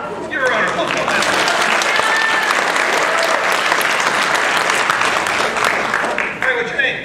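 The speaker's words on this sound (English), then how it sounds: "Let's give her a round of applause." An audience at a magic show bursts into loud, steady applause that holds for several seconds before tapering off, with voices faintly mixed in.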